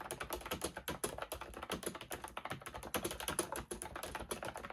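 Rapid, continuous typing on an aesthetic, springy iPad keyboard with a slightly typewriter-like feel, producing dense overlapping key clicks and clacks close up, with no voice over it.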